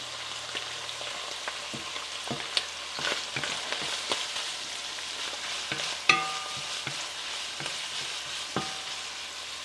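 Onion frying in a pan: a continuous steady sizzle throughout, with occasional stirring scrapes and clinks of a utensil against the pan.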